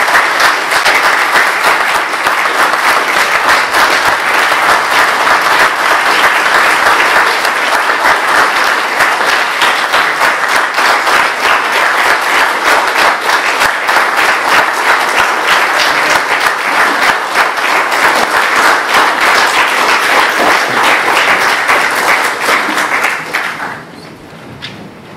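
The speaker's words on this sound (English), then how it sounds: "Please give our newest Eagles a round of applause." A large audience gives sustained, loud applause for newly honored Boy Scouts of America Eagle Scouts at a Troop 759 Eagle ceremony; steady dense clapping fills about 23 seconds before quickly dying away.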